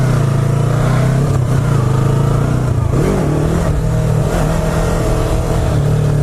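A sport bike engine runs loud and close, a steady droning roar with a brief rise and dip in pitch midway, alone with no voices.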